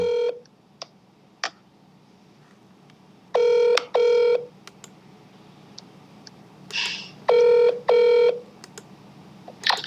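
Two pairs of ringback buzzes from an outgoing phone call sound out over a faint room hum, with scattered clicks and small handling noises between them and no talking.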